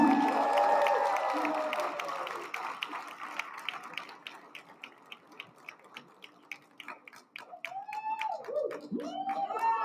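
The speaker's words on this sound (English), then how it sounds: "All right, give me a round of applause, y'all." Crowd at a fall/winter eXp Realty regional rally in North Texas applauding the rookies, clapping loud at first and then thinning into scattered claps, with cheering voices and whoops rising near the end.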